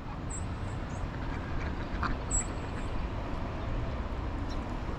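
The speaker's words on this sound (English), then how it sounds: "Some more duckies" Ducks quacking at a covered bridge, with a few brief, distant calls over a steady loud wash of flowing water or wind.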